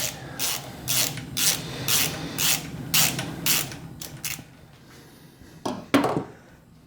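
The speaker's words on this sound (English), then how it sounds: "So backing it out now, and our valve spring should be coming free." A tool being backed out to free a valve spring on a Barra engine, with rhythmic ratcheting clicks in a steady pulse for several seconds, then a pause and a couple of louder metallic clunks.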